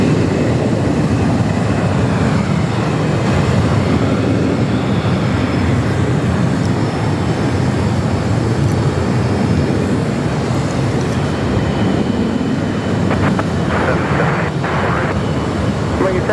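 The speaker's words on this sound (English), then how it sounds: "United Flight 802 coming in from Hong Kong on that" A United Boeing 787-9 Dreamliner arriving at LAX from Hong Kong, heard as a steady, loud, broad jet roar that holds throughout, with faint radio chatter in the background.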